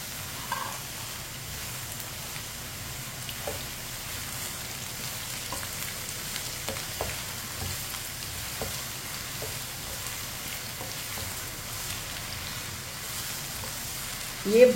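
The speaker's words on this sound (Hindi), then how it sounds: "इसे भी मिक्स कर लेंगे।" Potatoes and ridge gourd fry in a pan while being stirred, making a soft, steady sizzle with faint scraping under it and one louder clatter at the very end.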